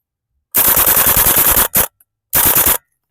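A WE Airsoft MP5SD gas blowback rifle fires close and loud, first in a rapid burst, then a short double shot, then another fast burst that empties the magazine.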